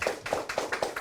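Brief rhythmic clapping at a Yangcheon district labor policy forum, a few quick evenly spaced claps close to the microphone, thanking the presenter.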